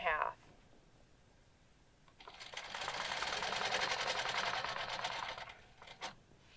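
A quilting machine stitches a clamshell design with a ruler, a steady close buzzing run of about three seconds after a quiet start, with a brief click near the end.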